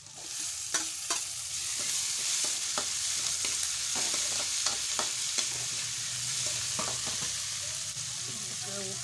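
Tomatoes fry in a pan for vermicelli upma while being stirred, a steady sizzle with repeated scraping stirs close by.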